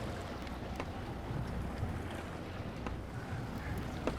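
Fishing boat engine idling forward at sea, a low steady rumble mixed with wind buffeting the microphone and water wash, fairly close and constant, with no talking.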